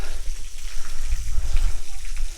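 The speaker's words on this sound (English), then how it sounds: "Here we have this water." Flowing water at the Sagalassos ancient city ruins in Turkey, a steady low rushing wash of running water heard close and fairly loud, with no talking over it.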